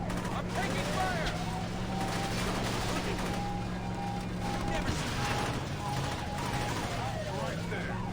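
Steady rapid gunfire and bursts from the Saints Row video game run continuously under a speaking voice, with vehicle noise mixed in.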